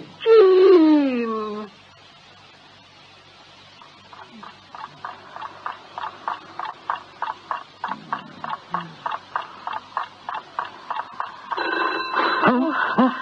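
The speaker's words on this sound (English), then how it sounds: "All right, it's a phone." A telephone rings at three in the morning in a radio drama. A voice comes first, then a long run of rapid, evenly spaced ringing pulses builds into a louder, denser ring at the end.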